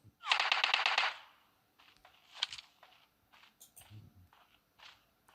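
Rapid automatic gunfire in PUBG Mobile Lite, a loud close burst of about a second of fast rattling shots, then fainter scattered shots, footsteps and thuds.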